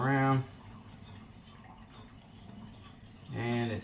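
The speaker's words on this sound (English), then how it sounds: "And we'll stir that around." A utensil stirs butter and flour together in a pan, giving a soft, continuous scraping and clinking close by, with a voice talking briefly at the start and end.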